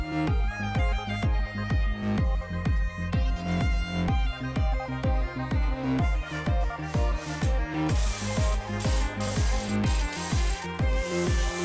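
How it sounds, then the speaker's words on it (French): A screwdriver drives small 20 mm screws to fix a sole to a cutting guide, giving a loud, close, fast mechanical clatter that ratchets on steadily and turns harsher toward the end, with no speech. "Pour fixer ma semelle à mon guide, j'utilise des petites vis"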